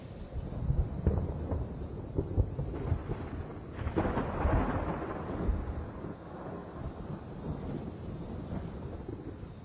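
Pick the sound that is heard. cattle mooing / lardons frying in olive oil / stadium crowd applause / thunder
thunder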